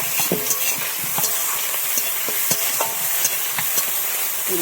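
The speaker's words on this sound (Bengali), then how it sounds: "চিংড়ি তাড়াতাড়ি ভাজা হবে।" Prawns fry briskly in a little oil in a pan, a loud continuous sizzle punctuated by regular spatula scrapes and light taps as they are turned.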